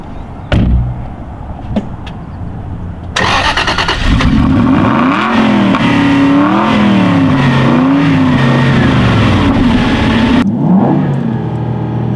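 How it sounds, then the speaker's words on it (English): An Aston Martin engine revs hard and close by, a few short blips first, then a sustained high-RPM roar that rises and wavers for several seconds before cutting off. "you're going to hear the engine note that you would hear at the higher RPMs"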